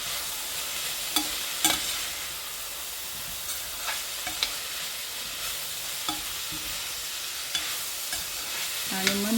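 Chopped cabbage fries in a pan with a steady, soft sizzle as it is stirred, broken by occasional sharp clicks from the spatula against the pan.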